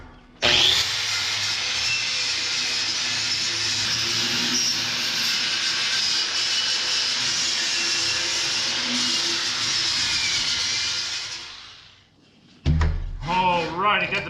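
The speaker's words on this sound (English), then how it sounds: "the backside all cleaned up with a wire wheel" A wire wheel on a power tool scours slag off the back of a metal village market sign, a loud continuous grinding whir for about twelve seconds that winds down, followed by a brief voice.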